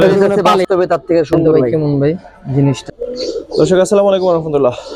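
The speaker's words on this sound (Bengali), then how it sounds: "আলমের লফটে আপনারা জানেন অনেক সুন্দর সুন্দর সবসময় কবুতর থাকে" Pigeons in a loft coo in repeated throaty bursts, mixed with loud nearby talk from people among the birds.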